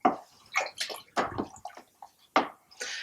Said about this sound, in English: So I'm just going to stir for 2 minutes.